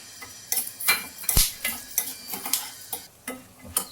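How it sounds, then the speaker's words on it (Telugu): Peanuts and green gram fry in a teaspoon of oil in a kadai on the stove, with a soft sizzle broken by irregular clinks and scrapes of stirring. No one speaks. "స్టవ్ మీద ఒక కడాయి పెట్టుకొని ఒక టీ స్పూన్ నూనె వేసుకొని పల్లీలు వేసుకొని ఫ్రై చేసుకోవాలి"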